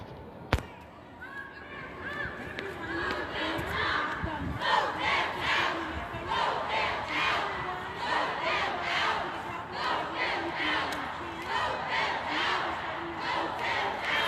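Marchers at an Alabama march for reproductive freedom shout and chant together, a loud rhythmic crowd roar with repeated pulsing calls, after a sharp bang at the start.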